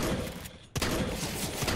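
Dense, continuous bursts of shotgun fire from Counter-Strike fill the moment, loud and close, with a brief drop to near-silence before the blasts resume.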